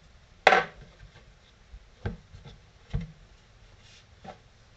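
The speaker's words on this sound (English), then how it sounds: "I'm going to take a bread knife, cut it right down through the center on the cutting board" A bread knife cuts through corn bread on a wooden cutting board, giving a sharp knock followed by several softer, spaced taps that ring out in a quiet room.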